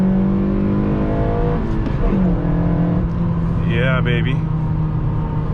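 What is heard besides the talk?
Honda Civic Si car engine revving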